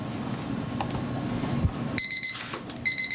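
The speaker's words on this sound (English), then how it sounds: "according to Mr. Valentine's electronic timer, we've just completed the first 20 minutes of cross-examination" Electronic timer alarm in a deposition room sounding in two short bursts of rapid, high, clear beeps, each burst about half a second long, after a stretch of quiet room tone.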